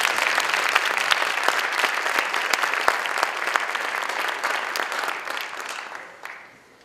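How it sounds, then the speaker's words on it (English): An audience at a gala breaks into a sustained round of applause, many crisp individual claps standing out in a loud, close crowd that fades near the end. "A round of applause, ladies and gentlemen."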